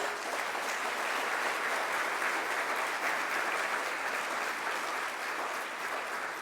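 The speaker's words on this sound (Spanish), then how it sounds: "Les quiero pedir que se den un fuerte aplauso a cada uno de ustedes" A tourism forum audience in Ecuador applauds steadily and loudly for the full stretch, a dense even wash of many hands with no voices rising above it.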